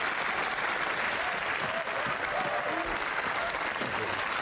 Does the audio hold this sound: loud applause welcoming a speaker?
yes